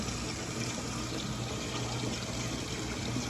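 Hot water runs steadily from a tap in a constant, hissing rush, fairly quiet and unbroken throughout.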